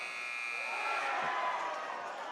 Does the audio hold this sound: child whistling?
no